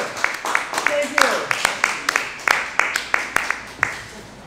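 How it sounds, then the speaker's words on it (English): Scattered audience clapping at a comedy show in a bar, a sparse run of individual claps spaced fairly evenly, with a voice speaking over them. "Clap your hands for Mike Matheson"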